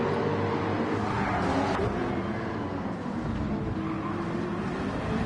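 Race cars droning through a Gran Turismo 7 race with a Porsche Cayman in the field, a dense, continuous engine roar that holds steady at close range with no talking.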